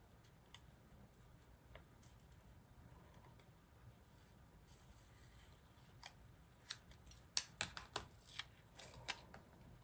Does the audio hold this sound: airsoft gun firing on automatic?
no